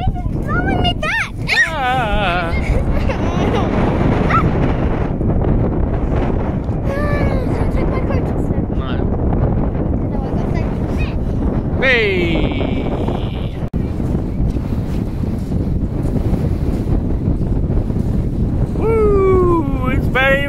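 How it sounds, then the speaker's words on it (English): Strong wind roars and buffets across the microphone outdoors at Riverside Country Park, a continuous loud rumble under excited voices and a dog's whimpers and yips. "It's very, very windy!"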